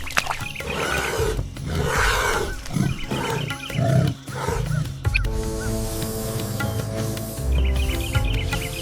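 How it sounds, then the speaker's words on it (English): Honey badger snarls mixed with a king cobra's hissing during a fight, a dense, loud, continuous roaring and growling with harsh bursts and a steady tonal drone, with no speech present. "The air is filled with a symphony of savage sounds. The cobra's guttural hisses, the badger's enraged snarls, the thud of bodies colliding"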